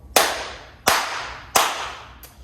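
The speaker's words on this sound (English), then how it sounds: "why am I clapping?" Three sharp, evenly spaced hand claps ring out in a garage setting, each crisp and loud with a short echoing decay, followed by the start of a fourth fainter one, no talk.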